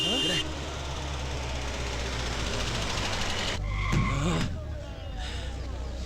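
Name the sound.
vehicle arriving and braking, film scene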